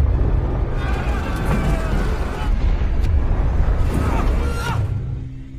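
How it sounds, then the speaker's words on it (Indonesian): A deep, rumbling blast roars continuously, dense and loud, with sharp bursts flaring through the noise as the explosion builds and slowly fades. "persenjataan meledak."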